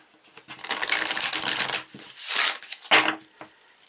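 Tarot cards being shuffled by hand, bursts of riffling and papery slapping in uneven clusters, close and fairly crisp, with short pauses between passes and no talking.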